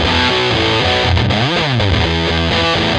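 Thick, fuzzy electric guitar through a Big Muff pedal plays a heavy riff with a sliding bend in the middle, loud and saturated with no pauses.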